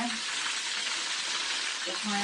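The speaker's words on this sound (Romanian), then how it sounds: "Ia ascultați cum sfârâie." Pârjoale meat patties fry in a hot pan, giving a steady close hiss and crackle of sizzling fat that runs unbroken throughout at moderate level.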